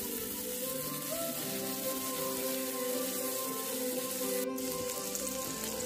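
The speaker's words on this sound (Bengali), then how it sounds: "তারপর এটাকে 1 মিনিটের জন্য এটাকে একটু ভেজে নিতে হবে।" Soaked cashews and raisins fry in a pan for butter paneer masala, making a steady, even sizzle that runs throughout, with one brief click near the end.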